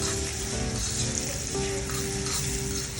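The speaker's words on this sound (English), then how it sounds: "we'll be allowing this to fry for 1 minute" Steady, close sizzling of egg sauce frying in a hot pan, a continuous crackle at even loudness with no talking.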